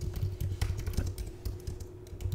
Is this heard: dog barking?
no